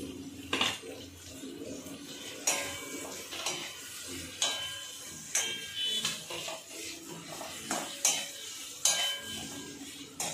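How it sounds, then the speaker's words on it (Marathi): Capsicum fries in oil for chicken chilli, with a soft sizzle punctuated by repeated metallic scrapes and clanks of a spatula stirring in the pan, close and fairly quiet. "ठेवायचे भोपळा मिरची पण मस्त तेलात"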